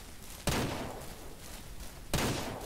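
Two sharp gunshot blasts in the video game Ranch Simulator, about a second and a half apart, each cracking loudly and trailing off into a noisy decay.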